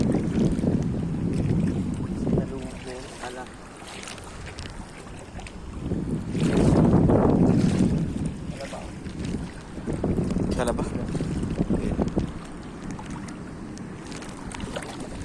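Gusty wind roars over choppy water around a small boat out crabbing near Doha, Qatar, with waves slapping and people talking now and then.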